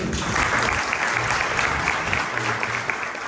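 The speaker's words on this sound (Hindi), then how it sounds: "इसका भी हम स्वागत करें तालियों से" Audience applause welcoming a scholar at a Kshamavani festival panel discussion, dense continuous clapping from a seated crowd, loud and close, with a few voices faintly underneath.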